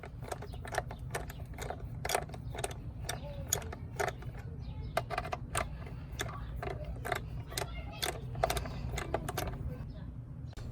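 A socket wrench tightens the coil bolts on a 2003 Mitsubishi Lancer ES during valve cover gasket work, giving a steady run of quick, close ratcheting clicks over a low background hum.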